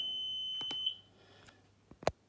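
An alarm triggered by a button in a student's home security project gives a steady, high, faint beep lasting about a second, followed by a few quiet clicks and a sharper knock near the end.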